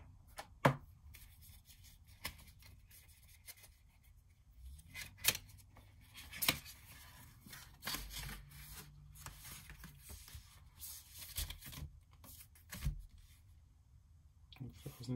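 Unboxing of an Apple Watch Series 5: scattered soft crinkles, taps and sliding of cardboard and plastic packaging close by, quiet, with occasional sharper rustles and a few thumps.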